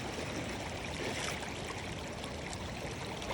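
Strong, fast-moving water rushes steadily at Casapsapan beach in Casiguran, Aurora, a constant close roar of current with no pauses.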